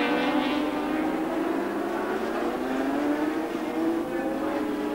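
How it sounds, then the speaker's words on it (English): Yamaha and Suzuki racing motorcycles screaming down the main straight at Sandown in a 1980 race, one slipstreaming past the other: a loud, continuous high-revving engine howl with shifting pitch and no pauses. "the slipstreaming brilliance of that Yamaha overtakes the Suzuki down the main straight"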